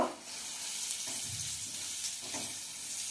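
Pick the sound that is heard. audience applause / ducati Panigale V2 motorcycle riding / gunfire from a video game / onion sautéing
onion sautéing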